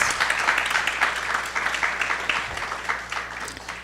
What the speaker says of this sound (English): the graduation committee, deserves a hearty round of applause